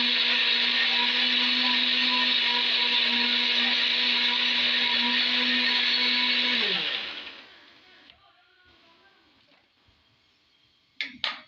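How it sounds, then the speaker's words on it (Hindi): A blender jug grinds onion, garlic, green chili, tomato and ginger into masala, a loud steady whirring drone that winds down after about seven seconds, followed by quiet clatter and a brief sharp knock near the end. "इन सब चीज़ों को मैं जग में डाल के ग्राइंड कर लूँगी।"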